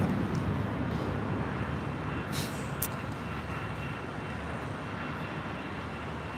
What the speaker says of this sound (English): Just had an Aero Union 767-200ER touchdown here on the south side.